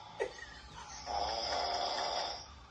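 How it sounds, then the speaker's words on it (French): A man snores at night in one long, loud, rasping snore, close to the recorder after a brief faint sound. "Qui ronfle?"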